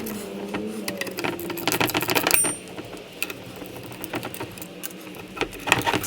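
A 7/16 inch ratcheting socket wrench loosens the bolts on a Sherwood raw-water impeller pump on a PCM Ford 351 Windsor marine engine, giving a steady run of close, quick metallic clicks over several seconds.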